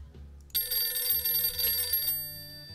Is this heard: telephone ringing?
yes